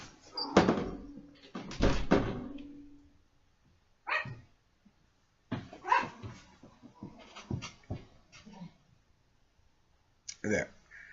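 Dogs in a home bark in several sharp bursts, loud and close, mixed with voices and a cat nearby as the animals are shooed outside, with clicks and a door-like thud between barks.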